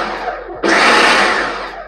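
Kitchen mixer on pulse setting churning carrot cake batter: after a softer start, a loud, steady whirring motor kicks in abruptly and runs close up for over a second before easing slightly.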